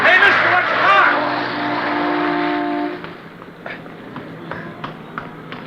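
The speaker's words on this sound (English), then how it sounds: "I thought sure you were going to get hit by that car." A car speeds past close by on a city street, nearly hitting someone. Its engine roar builds loud, then drops away into a busier background of street noise, with voices mixed in.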